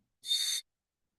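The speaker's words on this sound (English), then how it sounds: "if you blow this whistle, the bird sound will come" A bird call whistle blown once, giving a single bright, shrill whistled note that lasts under half a second, fairly loud and close, with silence before and after.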